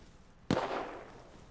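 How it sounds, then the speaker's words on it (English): A single gunshot rings out in the survival game Rust, a sharp crack followed by a rumbling, fading tail, heard at moderate distance with no talk. "Dang, gunshots."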